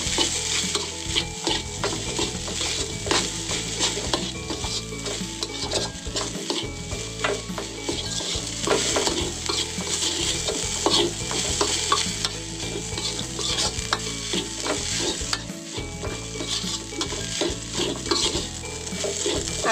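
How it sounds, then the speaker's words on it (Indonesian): Corn rice is stirred and tossed in a hot pan with the spices, giving continuous scraping and clattering over a low sizzle, loud and close, with no voices. "terakhir masukkan nasi jagungnya. Aduk-aduk sampai bercampur rata."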